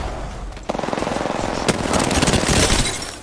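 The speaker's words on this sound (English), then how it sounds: "I'm taking shots. I'm taking fire." Automatic weapon fire in the video game Apex Legends, a rapid, loud burst of rhythmic shots, then a denser overlapping volley of gunfire close in the mix.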